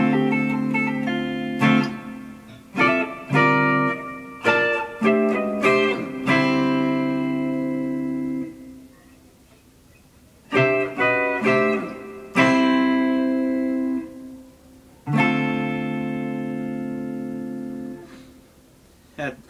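An electric guitar plays a lick through effects, with plucked notes and bent, sustained tones ringing out in phrases separated by short pauses, clear and up close.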